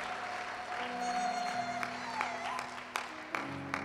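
Applause from a church congregation mixed with sustained organ-like tones, with a few sharper claps standing out near the end.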